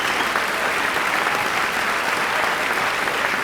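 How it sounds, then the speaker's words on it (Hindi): Steady, dense applause from an audience at an evening stage event, a continuous wash of clapping lasting a few seconds with no voices over it. "ज़ैनब के लिए जोरदार तालियां।"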